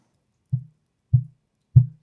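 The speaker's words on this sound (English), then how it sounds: "stand bumps carry through with this hard mount" Three dull, low thumps spaced about half a second apart, each a short boomy knock against silence, as a hard-mounted Warm Audio WA-87 R2 condenser microphone's stand is bumped.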